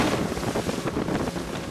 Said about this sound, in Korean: 배 한 척이 빠르게 바다로 나갑니다